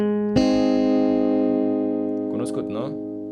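One chord from a song is strummed on guitar and rings out loud and sustained, slowly fading, with a short stretch of speech near the end.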